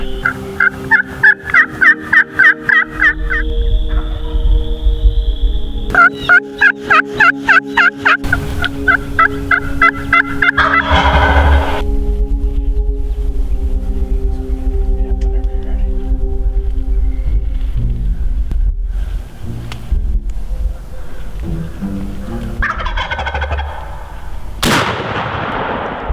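A wild turkey gobbler gobbles outdoors in loud, rattling bursts, repeated several times across the stretch over a low steady rumble, with no voices.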